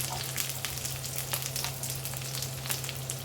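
Garlic frying in oil in a pan for ginisang sitaw, a dense continuous sizzle with light crackles and a low steady hum beneath, close and without talk.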